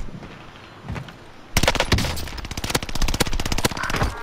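A Sten submachine gun fires rapidly in a Warzone match: a dense, loud burst of rapid shots beginning after a quieter opening and carrying on to the end, with no talk.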